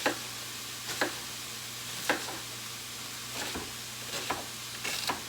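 Meat cooking with onion and garlic in a pan gives a faint, steady sizzle, broken by a few sharp clicks and taps at irregular intervals, with no talking.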